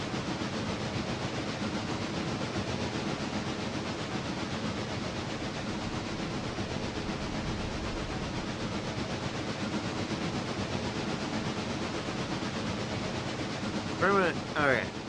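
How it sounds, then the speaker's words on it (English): A locomotive running in the railroad simulation game Realistic Railroader, a continuous dense rumbling and hissing train drone throughout, with a brief chirping sound near the end. "Locomotive 400 is making its way up to Bryson."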